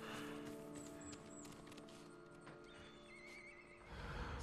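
A horse in the Ghost of Tsushima video game neighs and whinnies with clip-clopping hooves, fairly close over a steady ambient game background.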